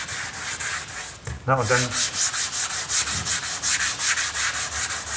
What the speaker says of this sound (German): Na, ich schleife wirklich in alle Formen